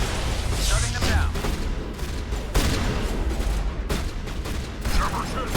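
Shotgun fire in a Mass Effect Legendary Edition combat scene comes as a dense run of close booming blasts and fusillades. Voices talk over the shooting.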